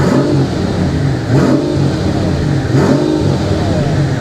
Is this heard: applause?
no